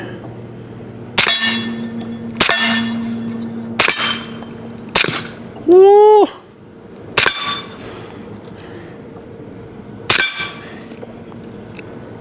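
Gunshots from an HK Mk 23 .45 ACP pistol followed by sharp metallic clangs from steel targets at a range, about seven hits spaced unevenly, one ringing with a wavering tone; a voice briefly cheers.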